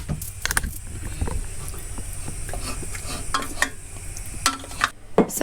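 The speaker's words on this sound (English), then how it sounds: "Brown the meat off first" Chunks of beef for a homemade stew sizzle as they brown in a pan, a steady, close frying hiss broken by scraping stirs and occasional clatters of utensil against the pan.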